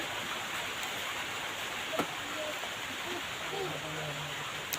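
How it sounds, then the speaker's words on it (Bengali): Heavy rain falls steadily outside a house beside a teak garden, a dense, even hiss of water on surfaces that fills the whole stretch without letting up. "বাইরে প্রচুর বৃষ্টি পড়ছে, প্রচুর বৃষ্টির মধ্যেও আমি ভিডিও করা বন্ধ করিনি।"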